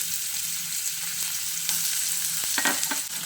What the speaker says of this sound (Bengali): এবার এই তেলের মধ্যে কেটে রাখা আলুগুলোকে দিয়ে দিচ্ছি।